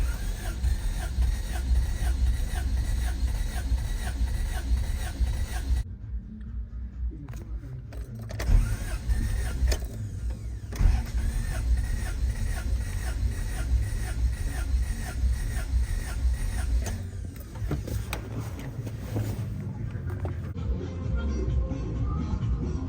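Engine cranking on a compression tester right after a head gasket replacement, a steady loud churning drone that runs the whole stretch with brief dips and a couple of louder surges.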